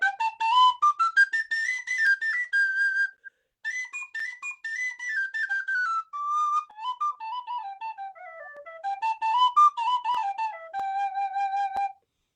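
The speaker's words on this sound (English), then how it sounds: "It's a traditional Irish penny whistle." A traditional Irish penny whistle plays a lively melody up close, with bright, clear notes rising and falling in quick runs and a few brief pauses between phrases.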